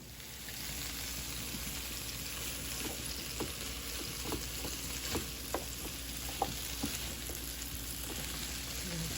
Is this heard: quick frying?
yes